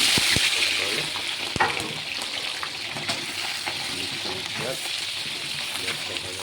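Onions for chilli chicken sizzle in hot oil with a busy, crackling hiss, punctuated by a couple of utensil taps and scraping stirs near the start.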